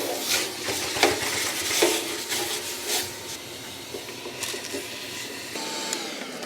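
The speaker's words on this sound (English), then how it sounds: "First thing I'm going to do is I'm going to vacuum out the inside." A vacuum cleaner sucks out the inside of a pellet grill, with scraping and rattling of debris and nozzle bumps over a steady whine, close and moderately loud.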